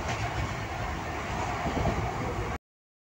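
Inside the moving Jagannath Express, a steady broadband rumble and rattle of the carriage, fairly loud and continuous until it cuts off.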